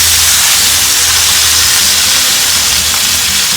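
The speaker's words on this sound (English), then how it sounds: "we're going to sear off the edges" Heavy steaks searing on a hot grill, their edges browning, give a loud, continuous broadband sizzle that holds steady for the whole stretch with no voices over it.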